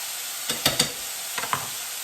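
Garlic stirred into a sizzling pan for a Cajun chicken sausage linguine, a soft steady hiss broken by a few short scraping strokes of a utensil in two quick clusters.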